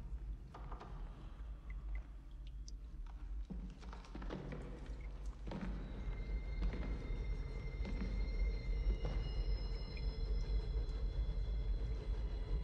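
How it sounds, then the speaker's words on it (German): Distant rumble of a train building gradually, with scattered clunks and metallic clanks, faint at first and growing steadier and louder. "Klingt wie ein Zug."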